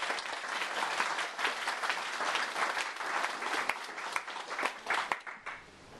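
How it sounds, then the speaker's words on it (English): A gathering of library volunteers at a Christmas morning tea gives a round of applause, dense steady clapping from many hands that thins toward the end. "can we just have a round of applause for Bernie?"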